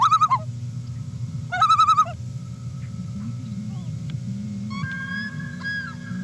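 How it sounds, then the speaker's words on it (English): Common loon calling in the North Woods, two loud wavering tremolo bursts followed by softer rising wails and yodel-like notes over a low background hum. "many of you are familiar with the calls that loons make, and they make kind of somewhat maniacal calls"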